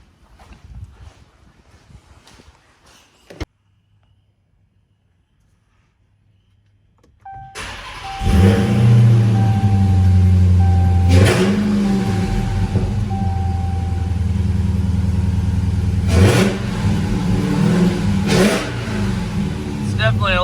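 A 900hp Jeep Trackhawk with a new intake cranks and fires up after a quiet pause, then idles loud and rough with several hard revs rising and falling close by, voices talking over it.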